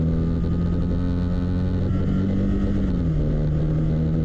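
A 2015 Can-Am Spyder RS S with an Akrapovic exhaust cruises with a steady, close engine drone and exhaust hum that shifts slightly in pitch, continuous throughout with no talking.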